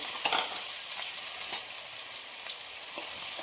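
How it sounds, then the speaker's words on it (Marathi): Finely chopped onion sizzling steadily in hot oil while browning for a masala matar paneer, with occasional soft stirring scrapes and one sharp clink midway. "आता कांदा आपण छान सोनेरी कलर येईपर्यंत परतून घेऊया"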